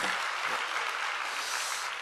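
A church congregation claps continuously, a dense even wash of applause with no voices over it.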